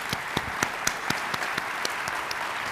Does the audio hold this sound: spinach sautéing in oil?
no